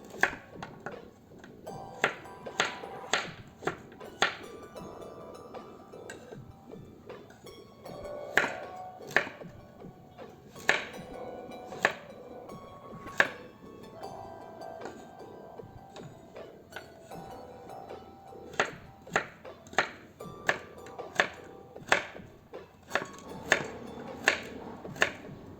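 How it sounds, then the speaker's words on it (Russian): Carrots being sliced with a knife into rounds about 7–8 mm thick for Uzbek plov: sharp, regular knife taps on a cutting board, repeated steadily in quick bursts with brief pauses, close and clear with no talking. "Начинаю с нарезания моркови."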